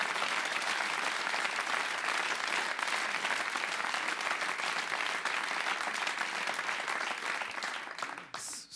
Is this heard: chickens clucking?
no